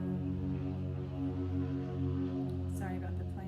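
An airplane passes overhead, a loud, steady droning roar with a rich tonal hum that holds through the whole moment, with a brief voice near the end.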